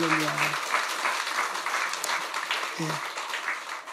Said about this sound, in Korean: 하나님께 영광을 돌리는 우리 성가대 박수 한번 하겠습니다.